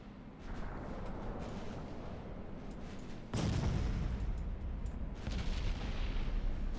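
Naval gunfire and shell hits in the warship game Ultimate Admiral Dreadnoughts, with a low rumbling backdrop and a sudden heavy boom partway through, followed by further muffled blasts.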